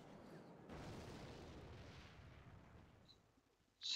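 A rocket spell strikes in the Clash Royale mobile game, a soft, muffled booming blast that rolls out and fades over a few seconds, followed by a brief sharp game sound at the end.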